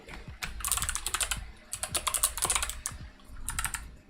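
Fingers type on a computer keyboard in bursts of quick, close key clicks, separated by brief pauses, with no voices.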